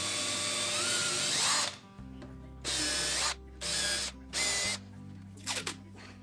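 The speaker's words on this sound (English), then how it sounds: "I was worried about drilling too deep," A power drill bores into a tabletop for an industrial-style kitchen island, in several loud whining bursts separated by short pauses, ending with a couple of quick blips.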